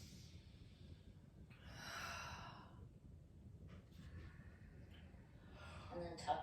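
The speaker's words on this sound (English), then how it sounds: "Take one more deep breath" A slow, deep breath is drawn in and let out in a quiet restorative yin yoga class. The breathing is soft, breathy and close, with faint sighs and little else in the room.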